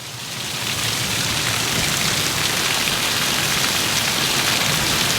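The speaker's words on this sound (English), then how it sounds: "it's just those raindrops bouncing and creating a thicker layer of water" Heavy rain pours onto a tiny glamping camper, a loud, dense and unbroken hiss of drops drumming on the surface that swells in the first second and then holds steady.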